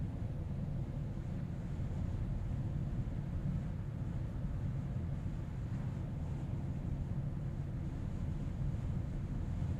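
Tesla Model Y cruising at 70 mph, heard from inside as a steady, broadband rush of road and wind noise, constant and moderately quiet, with no talking.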